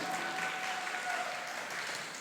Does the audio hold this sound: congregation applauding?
yes